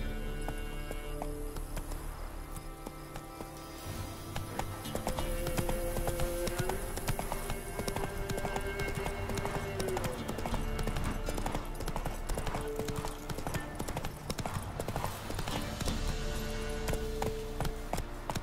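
Hooves of Geralt's horse Roach clop in a fast, steady gallop in The Witcher 3: Wild Hunt, heard close and rhythmic over game ambience and music the whole way through.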